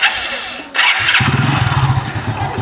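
A motorbike engine catches and starts, then settles into a steady, close, throaty idle that runs loud to the end, with no talk over it.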